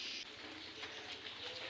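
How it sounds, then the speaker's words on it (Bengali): Morning birdsong outdoors, with faint chirps and pigeon-like coos drifting over a soft steady background hiss, fairly quiet and distant throughout. "পাখিদের কিচিরমিচির শব্দ"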